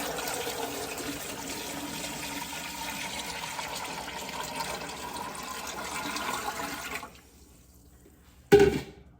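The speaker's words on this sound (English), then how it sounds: "I'm gonna add 3 quarts of water." Three quarts of water poured into a home pressure canner, a steady rushing splash that runs for several seconds then stops, followed by a brief sharp clunk.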